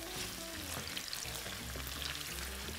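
Garlic and onion fry in a pan with a dense, steady sizzle and crackle, a faint low hum beneath, while being stirred.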